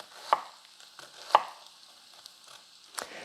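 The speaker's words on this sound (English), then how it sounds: "So let's get this diced up." Three sharp knife chops on a cutting board, dicing food for a stew, spaced about a second apart, close and fairly loud with quiet pauses between.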